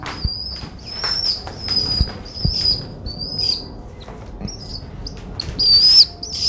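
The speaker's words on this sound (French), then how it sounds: "Le pigeon." Pigeon flapping its wings in several quick bursts of fluttering, close by, with high whistling bird chirps over a quiet background.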